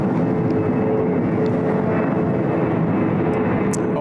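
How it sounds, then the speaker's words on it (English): A Qantas airliner taxiing at Sydney Airport toward the runway for departure, a steady loud engine roar and rumble with a few faint clicks, no voices. "They'll just disconnect that tug, and they'll taxi down for runway 3 for left departure to"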